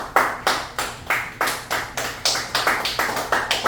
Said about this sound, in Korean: 큰 박수 한번 보내주시면 고맙겠습니다.